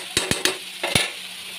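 A spoon scrapes and taps through dried fish (shutki) in a cooking pan, five quick sharp strokes in an irregular rhythm, close and clear with no talking.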